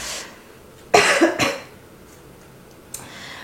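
A short burst of two or three harsh coughs, close and loud, followed by quiet and a faint breath.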